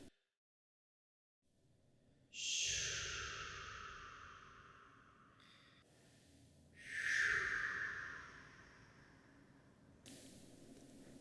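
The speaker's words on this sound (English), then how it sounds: "A strange breathing sound could be heard." A strange creature's breathing sound effect, two long, close hissing breaths like heavy snorting exhales, each swelling and slowly fading, with a quiet dark rumble between them and no talk.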